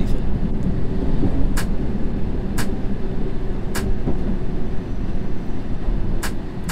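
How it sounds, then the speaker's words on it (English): A train braking in the London Underground Simulator video game: a loud, continuous rumbling roar with evenly spaced sharp clicks, like wheels passing rail joints, running throughout with no talking. "I do like the sounds when it's braking."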